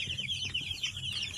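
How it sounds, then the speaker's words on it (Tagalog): Pet chickens at a backyard coop cluck softly and repeatedly, with brief bursts of chatter over a low rumbling background, fairly close. "mga ating mga alagang manok"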